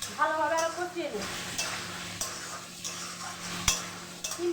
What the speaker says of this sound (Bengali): বেগুন আর আলুটা ভালোভাবে আরো কষিয়ে নিই